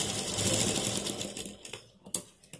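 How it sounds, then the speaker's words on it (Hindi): A sewing machine stitches together pieces of a cloth shopping bag, running in a rapid, close mechanical whir that slows into a few separate stitch bursts near the end. "हम दोनों को स्टिच करके अटैच कर देंगे।"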